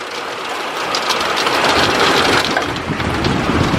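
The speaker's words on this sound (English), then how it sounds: "I think that's hail." Hail pours down in a severe, windy thunderstorm as a dense, steady hiss and clatter that builds slightly and holds throughout, with no voices heard.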